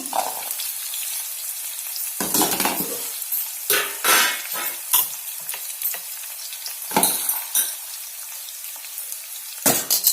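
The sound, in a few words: frying onions and spices in a pan for meal maker biryani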